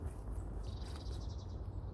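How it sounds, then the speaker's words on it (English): Faint, rapid chirping of blue tits in a quiet woodland, a few short trilled phrases repeating over a steady low background hum. "Blue tits."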